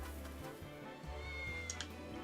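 A cat meows in the Triangle Strategy video game, two or three short cries rising over steady game music, fairly quiet and with no voices over them.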